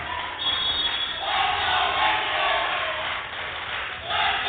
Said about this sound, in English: Patriot cheerleaders are here tonight. They're cheering on the Lady Patriot volleyball team